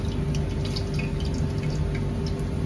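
Hot oil drips steadily off freshly fried tempura, a soft, close patter of fine drops over a constant low background hiss.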